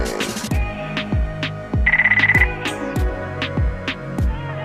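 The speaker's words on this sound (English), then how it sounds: "I got a phone call coming in my phone here" A phone rings with an incoming call, a repeating electronic ringtone with regular pulses roughly every half second and a brief trilling burst in the middle, loud and close, with no one talking.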